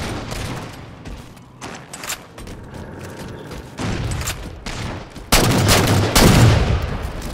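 Gunfire in Halo 4 multiplayer rattles in repeated bursts of shots, growing louder and denser toward the end.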